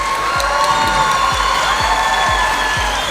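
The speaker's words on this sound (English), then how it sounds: "So one last round of applause for everyone who entered." Loud crowd at a Wella TrendVision 2015 hair competition event in Las Vegas cheering and applauding the entrants, a dense steady roar of clapping and whoops with a low rhythmic thump pulsing underneath throughout.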